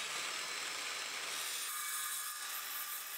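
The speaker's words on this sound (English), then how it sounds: "set up some scrap timber and make a very short cut" A saw makes a very short test cut through scrap timber, giving a dense, continuous high-pitched buzzing rasp for about three seconds that shifts in tone partway through, with no talking.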